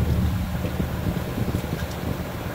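A 2015 Whirlpool Cabrio washing machine spins at low speed, giving a steady, close, low rumbling drone with a faint airy wash over it and no talk.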